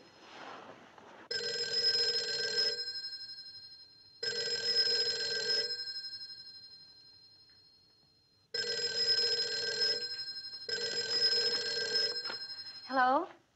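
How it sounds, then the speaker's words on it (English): An old-fashioned telephone bell rings in four long bursts separated by pauses, clear and fairly close, ending with a brief rattle as it stops. "Wasn't that your phone?"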